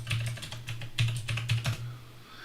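Rapid keystrokes on a computer keyboard as a password is typed into an SSH terminal session to a Proxmox machine, a quick irregular burst of close, crisp clicks over a steady low hum, no talking.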